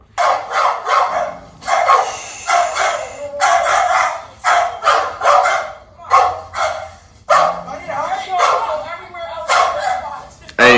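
Guard dogs bark in loud repeated bursts of deep barks and yips, close by, with people talking and exclaiming over them.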